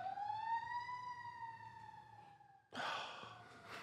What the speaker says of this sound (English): Fucking Joe got an ambulance.